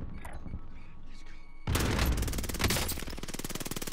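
Rapid video game gunfire, apparently a PPS submachine gun, erupts suddenly after a quieter stretch and continues as a dense, fast rattling burst at close range.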